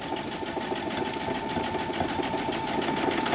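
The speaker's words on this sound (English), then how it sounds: "I'm going to zigzag stitch it on my sewing machine." Close, loud and continuous, a sewing machine hums and chatters through a zigzag stitch along a seam on a pair of kids' ruffle shorts, with no pause throughout.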